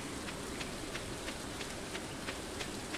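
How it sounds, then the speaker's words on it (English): Steady rain in the Stardew Valley farming game, a dense constant hiss with faint regular droplet ticks, even and unbroken for the whole stretch. "now it's raining twice"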